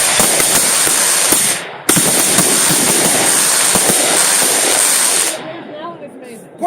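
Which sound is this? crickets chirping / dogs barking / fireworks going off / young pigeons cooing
fireworks going off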